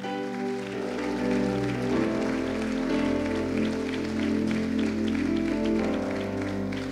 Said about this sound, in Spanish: Un aplauso al Rey amoroso